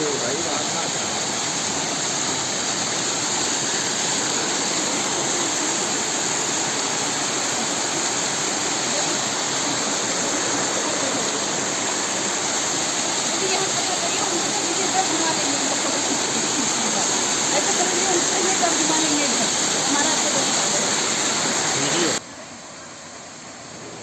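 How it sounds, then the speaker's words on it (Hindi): A waterfall at Rock Garden, Darjeeling roars as a loud, steady rushing hiss that fills the whole stretch without pause, cutting off abruptly just before the end. "झरना बहुत ही सुंदर लग रहा था मुझे"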